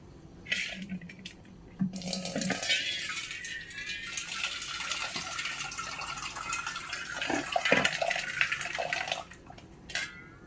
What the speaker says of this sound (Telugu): ఇప్పుడు కొంచెం వాటర్ కలుపుకుందాం.